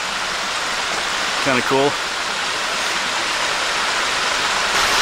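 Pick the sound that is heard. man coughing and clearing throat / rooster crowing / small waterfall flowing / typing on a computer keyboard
small waterfall flowing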